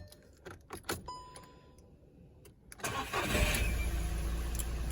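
Keys jingle and clatter, then a VW Polo 6R is cranked and its engine catches and settles into a steady idle, close and loud with no speech over it.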